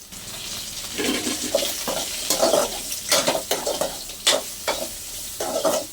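Drumstick pieces fry with a bright sizzle, broken by repeated stirring and scraping strokes against the pan in an uneven rhythm, close and fairly loud.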